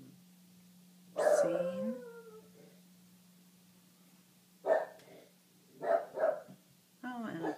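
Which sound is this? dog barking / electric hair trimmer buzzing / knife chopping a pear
dog barking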